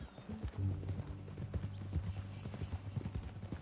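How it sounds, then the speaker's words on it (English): Horse hooves clip-clopping in Red Dead Redemption 2, a steady close walking rhythm of hoof strikes throughout, with faint background talk around it. "That a new horse?"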